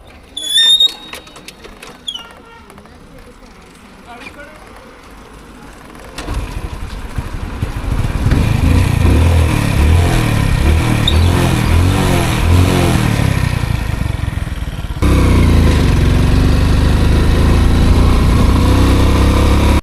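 A motorcycle with a leaking carburetor starting up and running loud and close, a rough steady engine drone that steps up in level partway through, after a stretch of quieter sounds and a voice at the start.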